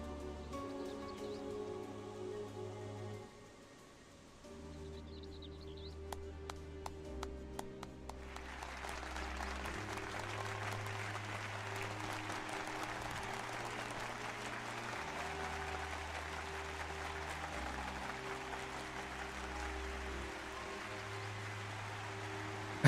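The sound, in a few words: synchronized jumping claps from the Mamool Ja, Final Fantasy XIV video game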